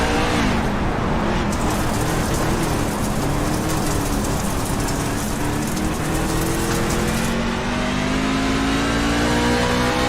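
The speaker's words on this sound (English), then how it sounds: "You can hear how much they're just laying off the throttle." Dirt track race cars at Lernerville Speedway easing off the throttle, a loud continuous roar of several engines with falling and rising pitch as cars pass and lift.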